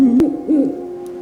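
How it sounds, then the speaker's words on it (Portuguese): A snowy owl perched among snow-covered trees in the Canadian winter gives a couple of low, clear hoots close by, each call rising and falling briefly, with a faint click and no talk. "a coruja das neves empoleira-se fria, calma e, acima de tudo, faminta."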